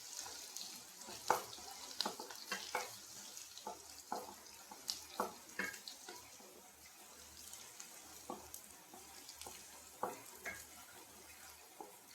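Water poured into a pan of tempered mustard seeds, chopped shallots, green chillies and curry leaves for a semolina breakfast, a soft hiss with repeated light utensil clicks and scrapes, fairly faint.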